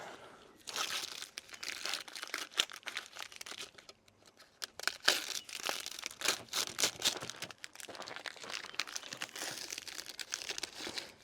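Plastic protective film is peeled back from a freshly finished part on a WB ute under restoration, giving close, irregular crinkling and crackling bursts with a brief lull midway, no voices.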